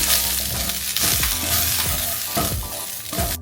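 Ginger tofu cooking in a pan with black pepper, a constant bright sizzle with repeated scraping strokes of a utensil stirring the pan, close and loud.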